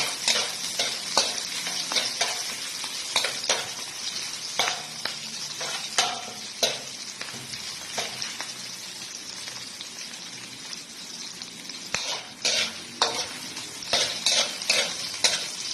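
Garlic frying in a pan for chop suey, a continuous close crackling sizzle with scattered pops and occasional stirring scrapes.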